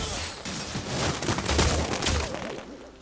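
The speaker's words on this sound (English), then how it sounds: "Rains down fireworks and fireballs" A fiery attack in Skylanders Imaginators from Flare Wolf rains down fireworks and fireballs as a dense volley of crackling, popping bursts with booming low thumps, continuous and loud.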